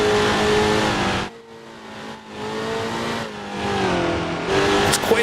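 A vintage Grand Prix race car engine at the Dundrod circuit in the Grand Prix Legends video game drones loudly and up close, dropping off sharply as the driver lifts and shifts down to fourth, then building back up through the revs.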